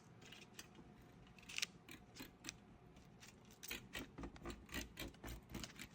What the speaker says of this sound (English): I found this little ravioli cutter and thought, you know what, that might make some cute cracker shapes